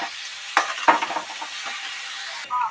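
Chicken momo filling stirred with salt in a hot pan, a soft sizzle under a few distinct scraping strokes of a spoon, briefly louder near the end, no talking.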